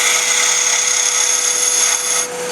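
A detail gouge cuts into ambrosia maple spinning on a wood lathe, producing a sustained bright, whining shave with a steady tone that eases off at the end of the short cut.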